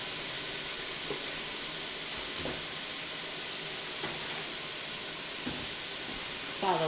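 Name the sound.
stirring corn in a hot pan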